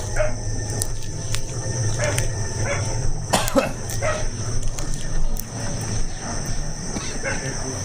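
A dog barks and whimpers outdoors near a grave site in Mindanao, short yelps scattered under a steady background hum, with people talking nearby.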